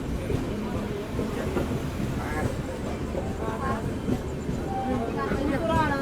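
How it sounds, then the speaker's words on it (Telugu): Mumbai LTT–Visakhapatnam express pulling into platform 1 at an Indian station, a steady rumble of railcars and wheel noise that continues throughout, with someone talking over it. "సో ప్లాట్ఫామ్ నెంబర్ 1కి ముంబై ఎల్టీటీ విశాఖపట్నం ట్రైన్ అయితే వచ్చింది."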